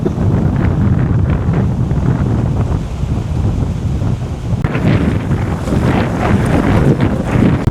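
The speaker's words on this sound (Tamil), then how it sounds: "இந்த அடிக்கிற காற்றை பாருங்க" Strong wind roars steadily into the microphone as it blows through palm fronds during a flood, a loud, continuous rushing that swells further toward the end.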